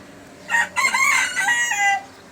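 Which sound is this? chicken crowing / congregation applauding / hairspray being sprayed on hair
chicken crowing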